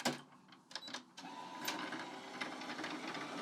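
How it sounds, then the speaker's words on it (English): A sewing machine's bobbin winder whirs steadily, held down to spin with no thread being wound, a continuous close mechanical hum after a few brief clicks at the start. "I'm just holding it down in that place and then letting it whir away"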